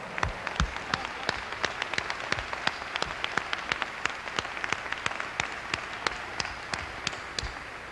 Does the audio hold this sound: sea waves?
no